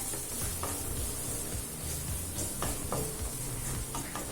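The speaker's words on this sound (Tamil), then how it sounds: "மிளகாத்தூள் வாசனை போக நல்லா வதக்கிக்கலாங்க" Onions sautéing with chili powder in a pan for onion capsicum pulao, a steady close sizzle with soft stirring scrapes over a few seconds and no voice.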